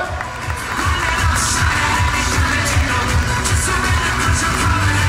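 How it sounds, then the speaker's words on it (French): An audience at a Chairman's Bonus award ceremony applauds and cheers loudly and continuously, a dense wash of clapping and shouts throughout. "On applaudit encore une fois très fort les qualifiés au Chairman's Bonus niveau 1 plus 2."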